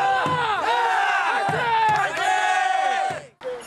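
Loud crowd of younger students chanting and shouting in unison outside a Korean college entrance exam hall on a freezing morning, rhythmic cheering bursts repeating almost continuously and close by.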